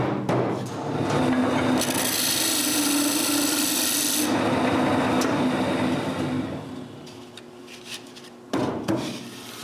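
Wood turned on a lathe as the bottom of a cylinder is shaped, giving a sustained rasping, rubbing tone with a louder, brighter cutting burst in the middle, then tapering off.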